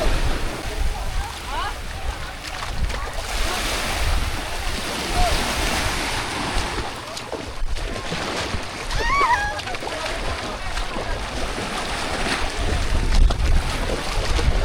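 A small boat out at sea in an island setting, with water sloshing and splashing against the hull and wind noise throughout, while people talk over it.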